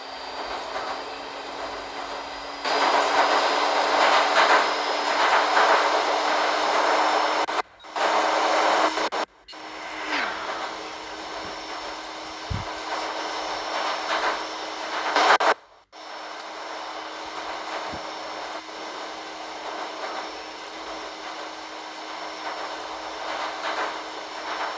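Riding aboard a Velaro Rus high-speed train between Zaragoza and Madrid, a steady broadband rumble and hiss fills the cabin, interrupted by a few sharp breaks and dips, with a faint high tone running beneath the travel noise.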